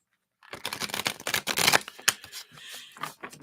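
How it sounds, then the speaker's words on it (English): A deck of reading cards being shuffled by hand at close range, a burst of rapid riffling and flicking clicks that starts after a brief silence and runs for about three seconds. "Give them another shuffle here."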